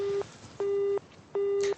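A telephone busy signal on a transatlantic telephone line sounds as three evenly spaced, steady mid-pitched beeps, each lasting under half a second and separated by short gaps.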